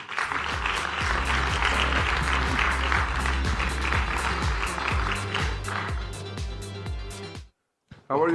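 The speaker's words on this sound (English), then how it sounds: "Ladies and gentlemen, a round of applause for Mr." Loud, sustained applause from a large audience at a World Festival of Sport event in Asia, with dense clapping filling the hall for about seven seconds before cutting off abruptly.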